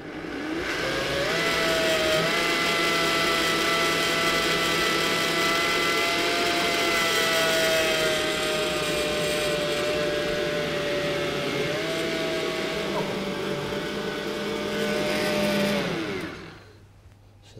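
Blender pureeing potato and leek soup, a loud steady motor whine running continuously with slight pitch shifts for about sixteen seconds before it is switched off and winds down.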